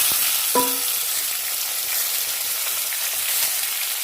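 Potatoes and green chilies fry in a pan with a constant bright crackle and hiss. A single short clink sounds near the start, and the sizzle stays close and steady with no voices.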